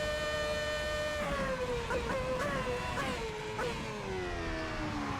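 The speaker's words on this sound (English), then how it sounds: "There's the rev limiter." A video-game Formula One car racing at Monza screams at high revs and bounces against the rev limiter, a loud, steady engine whine with brief stuttering cuts as the pitch shifts.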